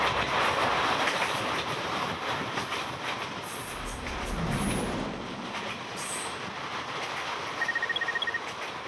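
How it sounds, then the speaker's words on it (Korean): A Trans-Siberian Railway train rolls along the tracks, a continuous loud rumble with rhythmic wheel clatter, occasional high squeals and a brief chime-like tone near the end. "러시아를 동서로 횡단하는 시베리아 횡단 열차"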